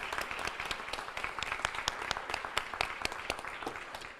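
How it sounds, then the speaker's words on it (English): An audience at a K-8 teacher of the year awards event applauds the teachers, with a moderate crowd clapping in an uneven patter and distinct individual claps popping out over the steady wash. "let's just give everybody a round of applause one more time"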